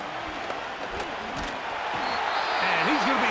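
Stadium crowd roar in a Madden NFL 2025 game, 2000 Ravens against Chiefs before third and goal, a steady broad wash of noise that swells louder toward the end, with a commentator talking over it.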